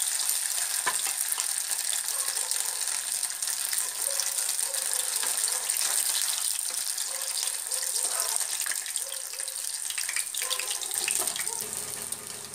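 Soya chaap pieces frying in hot oil in a pan give a steady, close, loud sizzle with faint stirring clicks throughout, no talking.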